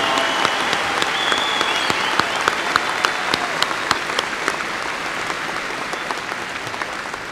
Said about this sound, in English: Let's have a round of applause for our May 2018 master's degree graduates from West Texas A&M.